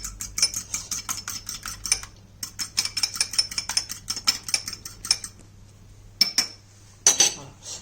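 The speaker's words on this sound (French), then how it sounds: "je vais casser mon œuf dans un petit récipient. Je vais bien le mélanger avec une fourchette" Egg beaten with a fork in a small bowl for choux pastry, rapid rhythmic clinks and taps of metal on the bowl in quick bursts with short pauses, close and crisp, no talk.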